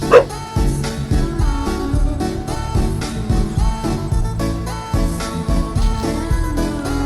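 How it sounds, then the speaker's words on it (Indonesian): A dog barks repeatedly in a rapid, insistent series, loud and fairly close, with yips mixed in, outdoors near a beach in Indonesia. "Itu guguk ya teman-teman"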